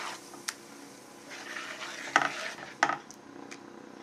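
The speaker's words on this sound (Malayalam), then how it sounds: "നന്നായിട്ട് ഇളക്കി കൊടുക്കാം." Tomato curry stirred in a pan on the stove, with a soft sizzle under a few quiet scraping clicks of the spoon.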